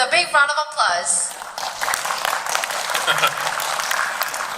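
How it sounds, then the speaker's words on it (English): An audience welcomes a speaker at a blockchain conference with applause that rises after a brief spoken introduction and carries on steadily at moderate volume. "let's welcome Evident Proof with a big round of applause"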